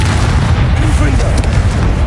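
A Confringo fire spell bursts in Hogwarts Legacy with a loud, deep booming blast that fills the moment, while a voice is heard underneath.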